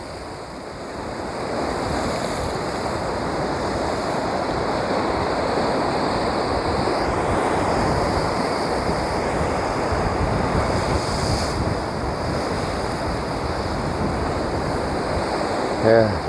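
Rough sea surf pounds the rocks at Portland Bill, a continuous loud roar of breaking waves with steady wind noise across the microphone throughout.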